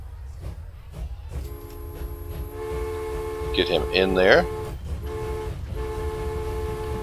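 A train in the video game Transport Fever sounds a sustained, tonal horn or whistle that swells midway and holds steadily to the end, with someone talking over it.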